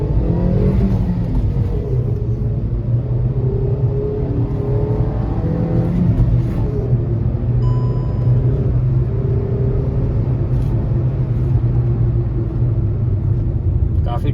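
A 2022 Hyundai Grand i10 Nios Sportz accelerates hard from standstill toward 100, its engine revving up and whirring through the gears with rising pitch, loud and close, while someone speaks over it.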